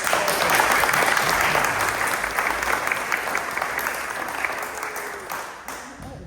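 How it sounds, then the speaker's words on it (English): An audience applauds at a suicide prevention day performance, sustained clapping from many people that starts strong and gradually thins and fades over several seconds. "Can you give Verinda a round of applause?"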